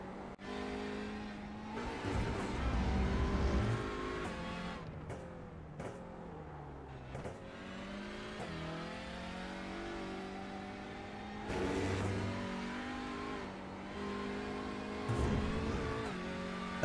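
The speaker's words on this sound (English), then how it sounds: "Like the new Audi. What's it sound like?" New Audi race car in the iRacing sim, its engine revving up and down through gear changes with bursts of acceleration and brief drops, loud and close throughout, with no voices.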